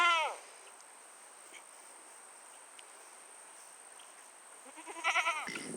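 Goats bleat at a farmyard, one bleat at the start and another a few seconds later, with a steady chorus of crickets filling the quiet space between them.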